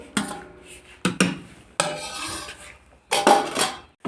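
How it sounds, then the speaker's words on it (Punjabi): Khoya being stirred into roasted flaxseed flour in a pan, with several loud scraping, clattering strokes of a spoon against the metal in bursts and short pauses between them. "ਹਾਂਜੀ ਹੁਣ ਆਪਾਂ ਇਹਦੇ ਵਿੱਚ ਖੋਆ ਮਿਕਸ ਕਰ ਲਿਆ"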